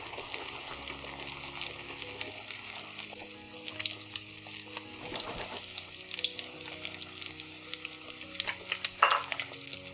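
Green pepper, sausage and egg omelet mixture frying in a warm pan, a steady close sizzle with soft stirring and scraping clatter throughout, no voices.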